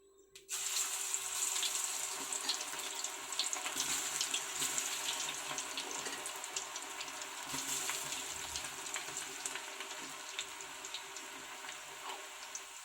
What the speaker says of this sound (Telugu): నూనె వేడెక్కిందమ్మా, ఈసారి పకోడీలు వేసుకోవచ్చు.